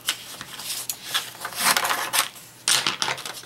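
Paper mask being trimmed with scissors, a run of crisp snipping and rustling paper bursts with short pauses, close and fairly quiet, no voices.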